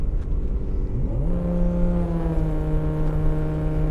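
At an airstrip speed event, a Lamborghini Huracan races an Audi R8. A steady engine roar sweeps upward in pitch, then settles into a strong, even high whine that holds to the end.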